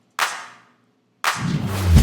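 Two hits of a clap sample blended with small-room reverb: a sharp clap trailing into a short decaying tail, then a second clap whose reverberant wash swells and lingers to the end.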